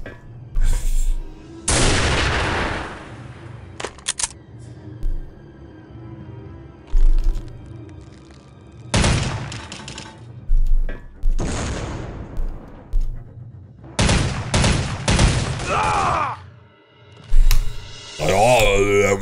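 Gunfire from the first-person shooter Soldier of Fortune II: Double Helix: several loud, sharp bursts of shots and booms at irregular intervals, close up, with a voice talking between and over them.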